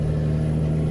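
A truck's engine in Euro Truck Simulator 2 (ProMods map) holds a steady, loud mid-pitched drone with a strong low hum, sounding like a vehicle under throttle, continuous for the full second with no talk.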